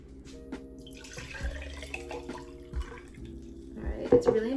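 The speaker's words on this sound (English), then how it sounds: "Next thing we're going to do is fill it up with water." Water runs from a tap into a glass for an apple cider vinegar drink, a soft steady trickle under a low hum, with a few clinks and a louder splash toward the end.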